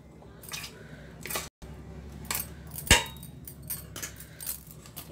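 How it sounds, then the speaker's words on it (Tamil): Spoon stirring corn fry batter in a bowl, giving scattered clinks and scraping strokes at close range, with a few sharper knocks against the bowl. "நல்லா கலந்துக்கோங்க அடியிலேருந்து மாவு எல்லாமே நல்லா கலந்துட்டு எடுத்துக்கிட்டோம்னாலும் கரெக்டாக இருக்கும்"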